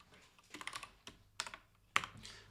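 Code being typed on a computer keyboard: short bursts of quiet, close key clicks separated by brief pauses.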